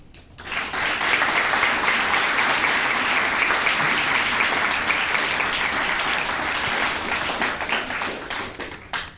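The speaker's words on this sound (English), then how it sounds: "So let's give her a double round of applause." A large convocation audience gives loud, sustained applause for an honors scholar, rising quickly and holding steady for several seconds before tapering.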